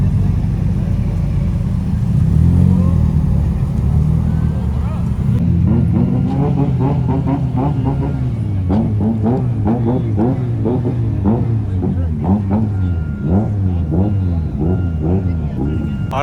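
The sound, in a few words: drift car engines revving at a car meet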